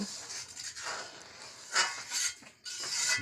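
Food being stirred in a cooking pot in a village kitchen after a pinch of salt is added, with scraping and clinking bursts of utensil against metal that come and go over a few seconds.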